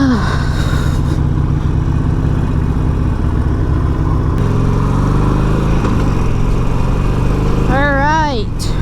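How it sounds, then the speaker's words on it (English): A motorcycle engine idles high in a steady, loud drone with a sustained tonal hum throughout, heard close up, and a voice speaks briefly near the end. "Bike is still idling so damn high."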